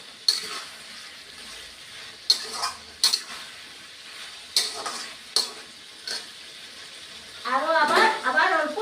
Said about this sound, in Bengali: এখন ভালো করে মশলাকে আমি পাঁচ মিনিটের মতো কষিয়ে নিতাম